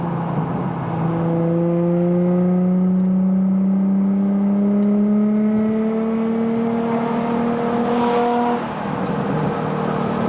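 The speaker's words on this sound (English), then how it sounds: "the exhaust sounds really good. It's very nice and deep. It's not very raspy at all" An Infiniti G35 coupe with an ISR blast pipe exhaust, its deep, smooth note rising steadily in pitch as it accelerates, loud and close, then easing off near the end.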